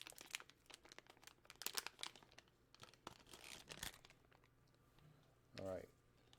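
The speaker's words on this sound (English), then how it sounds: "assuming I can get it out of the packaging" A Raspberry Pi Zero W is worked out of its packaging: quiet crinkling plastic and paper rustles, a few sharp tearing snaps, then a brief low rumble near the end, all close and fairly soft.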